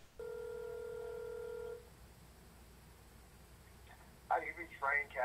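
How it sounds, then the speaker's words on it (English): Telephone call to a real estate agent: a single steady ringback tone for about a second and a half over faint background hiss, then a voice begins speaking. "Got his phone number and gave him a call."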